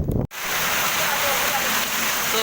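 Heavy rain pours down in a dense, steady roar that starts after a brief pause and fills the whole scene, loud and unbroken.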